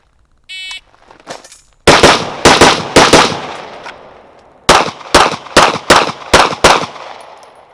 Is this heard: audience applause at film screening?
no